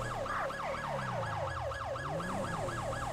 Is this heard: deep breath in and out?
no